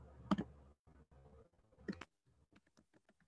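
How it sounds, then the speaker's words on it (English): Typing on a computer keyboard, heard as a few quick bursts of close, crisp key clicks separated by short pauses. "So I'm just going to type in,"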